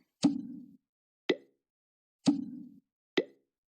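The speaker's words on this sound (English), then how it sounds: "When the brine is ready, add salmon to the bucket. Add all the salmon to the bucket." Salmon pieces plop into a brine bucket in a cooking video game: four distinct wet plops in an alternating pattern of longer splashy drops and short crisp ones, clean and close with silence between.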